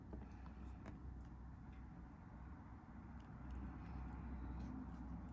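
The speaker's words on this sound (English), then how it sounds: "I have my window open, so if you hear traffic, that's what that is." Road traffic drifts in through an open window from a main road out front, a faint steady rumble of passing cars with occasional soft clicks nearby and no talking.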